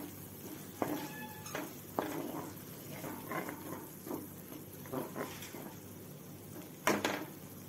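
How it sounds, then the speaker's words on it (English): A spoon clinks and scrapes against a cooking pan in irregular taps as coriander powder and spices are stirred, close and fairly quiet. "I'm going to mix all this together"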